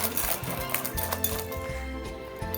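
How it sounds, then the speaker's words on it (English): Vanilla extract being whisked into a cookie mixture in a bowl, quick light clinks and scrapes of the whisk against the bowl repeating in an uneven rhythm, close and fairly loud. "Whisk that in."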